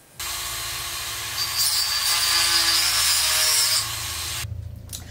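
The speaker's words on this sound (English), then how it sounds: "I'm just now cutting in the slot where the tail feather is going to be" Power tool cutting a slot into a wooden saltwater swimbait, a loud continuous grinding whine that holds steady, rises slightly midway, then stops abruptly with a short clatter.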